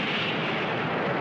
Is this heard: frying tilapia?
no